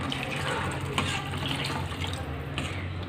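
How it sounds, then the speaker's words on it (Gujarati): Water pours steadily into a cooking pot holding rice and dal for khichdi, a continuous close splashing gush lasting a few seconds. "થોડું પાણી નાખીશું।"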